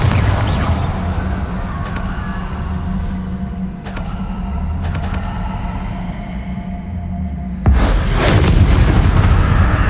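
Spell blasts from the Hogwarts Legacy video game: heavy booming explosions and crashing impacts, loud and close, with a strong burst near the end over continuous in-game rumble.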